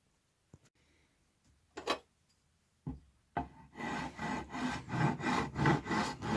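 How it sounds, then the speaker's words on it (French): Hand filing a wooden piece to round it to a radius, a few scattered scrapes then a steady rhythmic rasping of back-and-forth strokes, close and fairly loud. "et ça lime, et ça arrondit jusqu'à obtenir le bon rayon"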